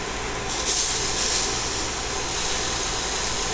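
Petite sirloin steaks drop into very hot, smoking oil and sear with a loud, steady sizzling hiss that flares at the start and then holds.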